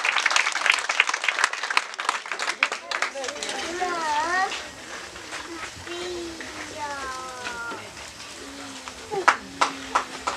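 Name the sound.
group applause in church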